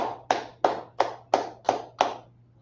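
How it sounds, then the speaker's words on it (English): A congregation claps hands at a Sabbath service, seven sharp, evenly spaced claps at a steady beat, close and clear over a faint low hum. "clap it up"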